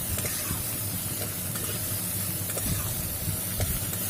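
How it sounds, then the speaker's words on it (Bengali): Chopped onion and tomato fry in hot oil with five-spice seeds for an okra and shrimp dish, a loud, steady sizzle and hiss that runs without a break and has no voices over it. "এবার পেঁয়াজ আর টমেটোটাকে ভালো করে ভাজা ভাজা করে নেব।"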